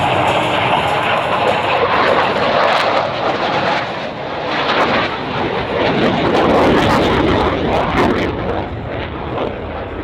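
An F-18F Super Hornet jet roars loudly overhead during an air show in Australia, a sustained, broad, rushing engine blast that swells and surges across the whole span without pause.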